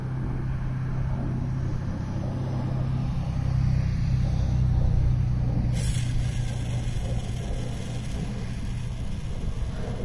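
A small SCX24 RC crawler fitted with a two-speed transmission runs in slow speed, unweighted, giving a steady low motor and gear whine that continues throughout, with a brighter high-pitched layer joining partway.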